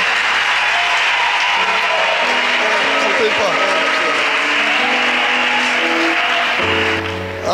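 Loud church congregation applause continues throughout while someone speaks over it, the clapping tapering slightly near the end.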